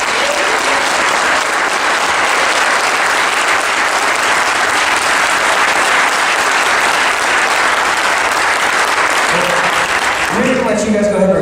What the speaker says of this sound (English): Let's go ahead and give these students a round of applause.